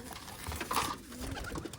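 Soft pigeon cooing over a steady background hum, with one brief brighter call near the middle; no voices.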